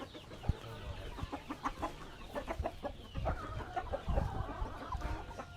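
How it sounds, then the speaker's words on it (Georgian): Chickens cluck in a farmyard in Kakheti, Georgia, a near, busy mix of repeated clucks and short calls, with one sharp sound near the start. "ნახე სავსეა ეზო ქათმებით"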